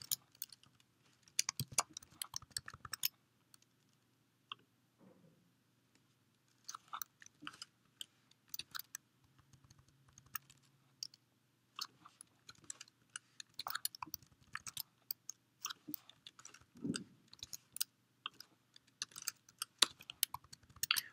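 Fast, light clicks of typing on a computer keyboard come in bursts with short pauses, quiet and close, with no talk.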